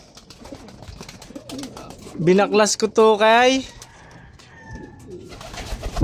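A pigeon gives a loud, close cooing call in rolling pulses, with someone speaking briefly before it and faint rustling afterward.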